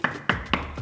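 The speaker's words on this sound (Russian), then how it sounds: "По стуку вылезала посудомойка" Three or four sharp knocks land on the front of a push-to-open built-in dishwasher in a modern apartment kitchen, each one close and crisp with short pauses between.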